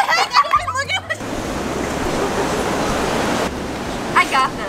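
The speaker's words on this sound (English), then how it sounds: "Ocean! Waves!" Broad steady wash of ocean waves and surf for several seconds, with children's voices and giggles briefly before and after.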